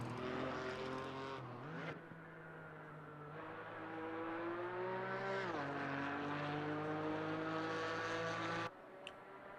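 A BMW GT4 race car in Assetto Corsa Competizione drones steadily at close range, its engine note climbing and dropping through several gear changes over a sustained, loud run.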